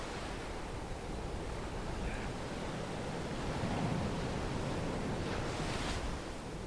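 Steady ocean surf washes in and out along the shore, a continuous broadband rush that swells slightly in the middle and stays loud throughout with no voices.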